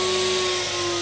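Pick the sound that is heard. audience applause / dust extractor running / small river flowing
dust extractor running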